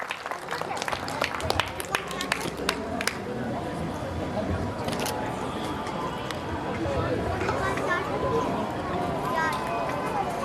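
Applause from a village crowd at a Republic Day Hindu community gathering welcoming a guest, a dense spread of claps with sharper snaps early on that settles into a steady wash, alongside voices.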